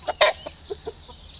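Chickens on a backyard flock cluck in a few short, sharp bursts, close by, with brief gaps between calls and no talk over them.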